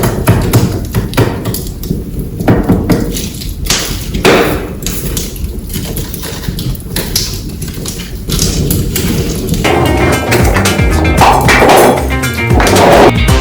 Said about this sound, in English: So now there is like too much of fire for me, so I'm going to remove off some of the big logs